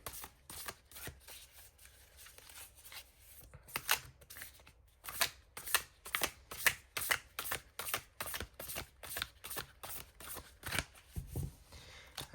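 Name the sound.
shuffling tarot cards for a reading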